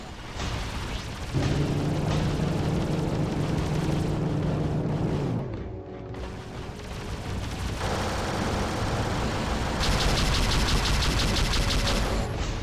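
Space-combat gunfire and explosions from the game Freelancer as turrets on an enemy platform open fire: a dense, loud, continuous barrage of blasts and rapid shots with a brief lull in the middle before the barrage resumes.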